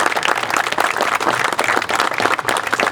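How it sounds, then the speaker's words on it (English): Outdoor trail groundbreaking ceremony crowd applauding steadily and loudly, a dense continuous patter of many hands close by throughout, without a break. "Let's give her a round of applause."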